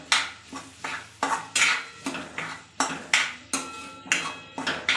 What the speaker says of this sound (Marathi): आता आपण आलू टाकून घेऊया आणि पूर्ण हे मिक्स करून घेऊया